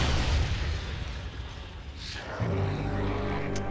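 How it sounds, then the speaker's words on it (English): Cannon blowing up in the Metroid Prime 3 video game: a dense, rumbling blast fills the clip, dips briefly, then swells again with a low tonal drone and a faint hiss of debris near the end. "once you destroy all of them, the cannon goes boom"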